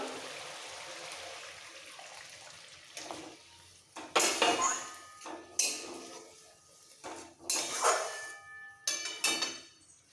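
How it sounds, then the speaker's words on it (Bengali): Hot water is poured into a tangra fish gravy with yogurt in a pan, followed by bursts of splashing, sizzling and metal utensil clatter in several loud, separated episodes after a quieter simmer. "এবার দিয়ে দেবো অল্প করে গরম জল"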